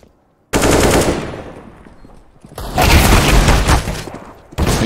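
Rapid automatic gunfire in CS:GO on the Dust 2 map during a pro esports match, loud dense bursts of shots with a short lull between volleys, close and dominant with no talk over it.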